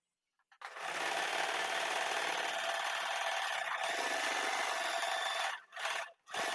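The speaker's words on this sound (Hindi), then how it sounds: "इसलिए बहुत लिमिटेड सिलाई से हम इसे कंप्लीट करेंगे" A sewing machine stitching a velvet fabric quilt or baby bedsheet made from old clothes: one close, continuous whirring run of rapid stitching lasting several seconds, then a pair of brief stops and restarts.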